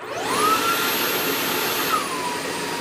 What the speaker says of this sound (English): when I turn this on, the nice thing is that the digital motor makes a very unique sound